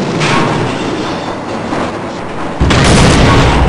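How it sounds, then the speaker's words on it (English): An armored train in the Half-Life video game rumbles past as a steady roaring, clattering rush, loud and close, swelling into a heavier burst near the end. "Got an armored train this time."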